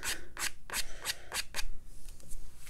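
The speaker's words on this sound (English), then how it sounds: "If you take the credit card, like an old credit card, you can kind of scrape up some grasses." An old credit card scraping watercolor paint across paper to form grasses in a landscape, about six quick, close rasping strokes in a steady rhythm, then fainter scratchy scraping.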